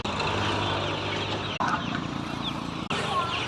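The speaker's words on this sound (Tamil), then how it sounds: "ஃபேன்சி அழகு கோழி." Assorted fancy chickens, along with black Kadaknath-type hens, broilers and guinea fowl, clucking steadily at close range in a farm poultry yard, with faint voices in the background and several brief breaks.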